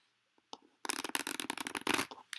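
Playing cards are shuffled close by, a brief tap and a few flicks followed by a dense, rapid burst of riffling slaps, with no talking.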